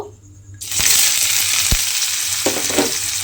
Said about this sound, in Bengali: সেই পেঁয়াজটা আমি এই তেলের মধ্যে দিয়ে দেব